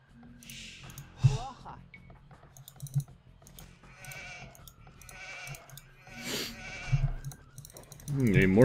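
Sheep bleating in Age of Empires 2 HD on the Highlands map, several short bleats scattered among clicking game interface sounds, with someone talking over them.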